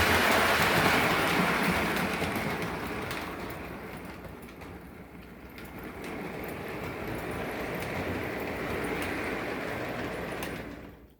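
A model diesel train rumbles steadily along a main line with a broad, rushing hiss and faint rhythmic clicking, fading slightly midway before cutting off at the end.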